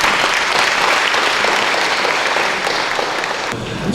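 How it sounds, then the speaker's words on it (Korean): Loud, dense applause from an audience at a forum in Jeongdong First Church fills the room, steady and sustained before trailing off slightly near the end. "박수해 주시죠."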